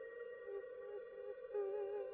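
A voice imitates an owl with a faint, low, drawn-out hooting tone that swells slightly near the end, heard on Mount Sumbing.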